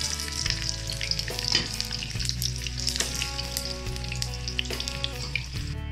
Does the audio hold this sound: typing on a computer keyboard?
no